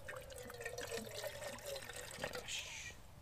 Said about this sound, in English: Got my handy dandy Stanley canteen water container.